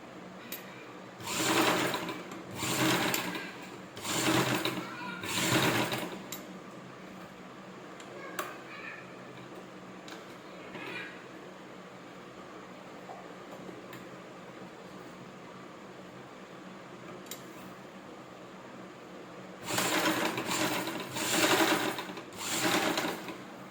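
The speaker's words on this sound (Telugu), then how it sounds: "1 సైడ్ వచ్చి స్ట్రైట్గా కుట్టేసుకోవాలండి. కుట్టేసుకుని దీనికి డబల్ స్టిచ్ వేసుకోవాలి." Sewing machine running in several bursts of straight stitching on cloth, stopping and restarting with quiet gaps between runs, close and fairly loud with no talking.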